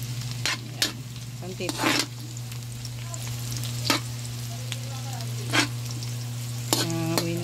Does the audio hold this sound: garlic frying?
yes